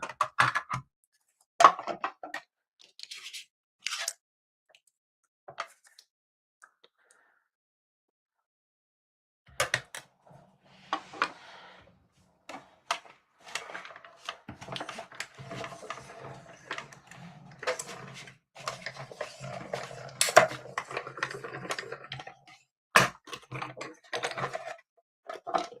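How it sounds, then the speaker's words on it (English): A mini cut and emboss die-cutting machine cuts a paper circle for scrapbooking. It makes close, sharp clicking and ratcheting taps in irregular bursts, broken by brief silences, and grows denser and busier toward the end. "I'm going to grab my mini cut and emboss and cut this out in a circle"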